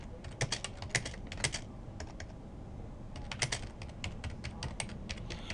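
Typing on a computer keyboard while writing a sentence in Microsoft Word 2013: quick, irregular bursts of light key clicks, close and fairly quiet, with a short pause midway before the keystrokes resume.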